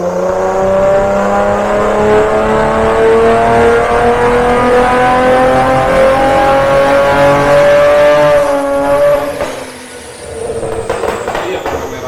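Mercedes-Benz E280 fitted with a custom full exhaust system, engine held at a loud, steady high rev for several seconds, then dropping off sharply and settling back to a lower idle-like rumble.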